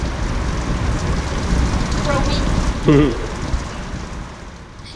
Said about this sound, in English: It's been raining on and off all day long.